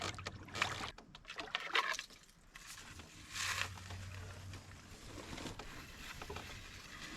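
A canoe is paddled upstream on the Manistee River, with close water sloshes and paddle strokes coming at an irregular rhythm, dribbling drips and soft knocks on the hull, and quiet flowing water in between.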